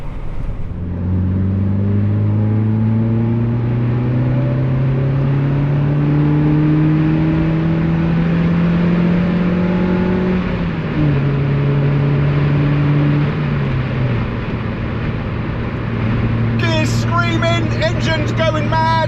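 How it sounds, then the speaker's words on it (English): A car engine revs hard at 70 mph, its loud, sustained drone climbing and shifting in pitch. It runs steadily throughout, with a brief rattle of clicks near the end. "Engine's going mad and we're doing 70."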